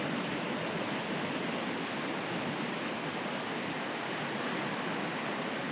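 Waves washing onto a beach at sunset make a steady, dense hiss of surf, constant and fairly loud throughout with no distinct breaks and no voices.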